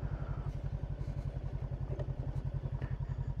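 A motorcycle engine idles or ticks over at low revs with a steady, even pulse on a rough French country route, and faint clatter and thumps sit above it. No one speaks.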